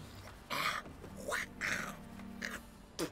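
A cat in The Witcher 3 gives several short, faint meows and yowls in quick succession, quiet and close, with no talk over them.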